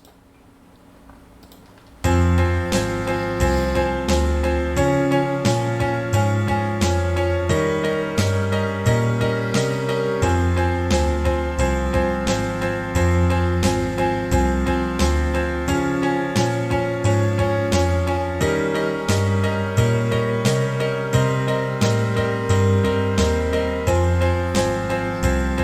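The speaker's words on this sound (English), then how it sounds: "So now we've taken that 4-bar loop and turned it into an 8-bar loop that now sounds like this." An 8-bar chord loop made in the Chordbot app plays loud and steady, with evenly pulsing chords and regular ticking percussion repeating in a tight, mechanical rhythm after a short quiet opening.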